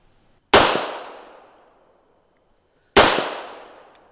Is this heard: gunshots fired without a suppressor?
yes